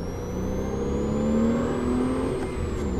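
A red Porsche Cayman S engine drones loudly and steadily at full throttle, its pitch climbing gradually as it accelerates hard, heard from inside the car.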